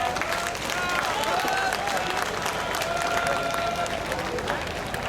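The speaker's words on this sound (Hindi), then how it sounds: "तालियां बजाकर स्वागत करें।" A crowd at a farmers' protest gathering in Garhi Sampla applauds to welcome farmer leaders, dense continuous clapping with scattered voices and crowd murmur mixed in.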